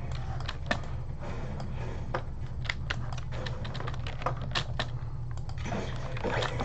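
Rapid computer keyboard and mouse clicking during Fortnite play, a close, continuous patter of sharp taps in irregular bursts over a low steady hum.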